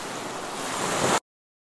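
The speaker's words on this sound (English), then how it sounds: "the waves are really crashing today" Ocean waves crash in a steady, loud roar of surf that builds slightly for about a second, then cuts off abruptly into silence.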